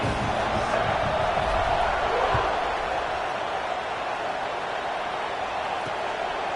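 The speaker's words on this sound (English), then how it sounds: "this crowd now ready to get behind them" A stadium crowd in the NCAA 26 college football video game roars steadily before a kickoff, a dense, continuous wash of cheering that swells slightly early on and holds at an even level throughout.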